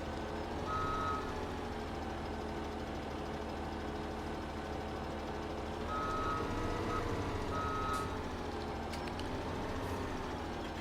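Grain truck in Farming Simulator 17 backing up, its reversing alarm sounding a few steady high beeps in short bursts over a constant low engine drone, with no talk.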